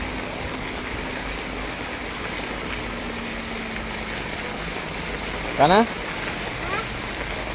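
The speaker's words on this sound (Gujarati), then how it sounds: "આ વહેલી સવારથી સુસવાટા બોલાવતો ભૂકા કાઢતો વરસાદ છે" Heavy rain pours steadily at a farm, a dense wash of falling water filling the whole scene, with someone talking over it and a brief louder splash or voice burst near the end.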